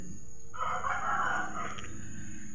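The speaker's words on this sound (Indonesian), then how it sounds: "banyak sekali ayam di sini ya teman-teman" A rooster crows once, a drawn-out call rising and falling, fairly close against a quiet outdoor morning background near chili and banana plantations.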